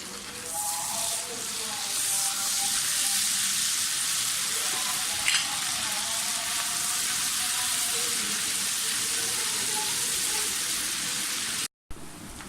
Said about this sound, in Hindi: प्याज हमारा फ्राई हो गया है, अदरक लहसुन भी भून गया अच्छी तरह से।